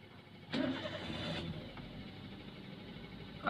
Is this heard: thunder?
no